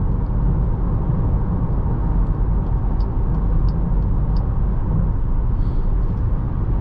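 A 2022 Jeep Grand Cherokee passes on the highway, heard from inside the cabin as a steady, loud engine and road drone that holds fairly even throughout.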